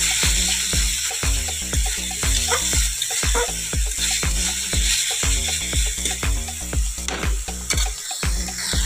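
Fish curry for a Bengali jhal sizzles and fries in a pan, a spatula scraping and stirring in a steady, rapid rhythm throughout, loud and close with no talking.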